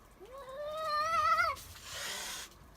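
A cat lets out a long, rising and wavering meow that swells louder before breaking off into a breathy hiss or rustle, heard close and clear with no talking over it.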